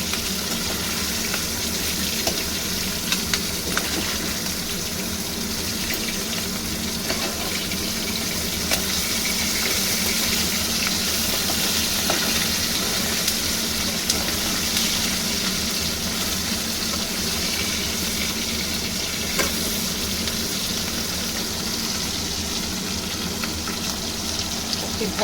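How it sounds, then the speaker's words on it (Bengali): Bata fish sizzle in hot oil in a pan, a steady dense crackle and hiss that fills the whole stretch without pause, with no one talking. "এক পিঠ ভাজা হয়ে গেছে, আমি আর এক পিঠ ঠিক এভাবেই ওই পিঠটাও"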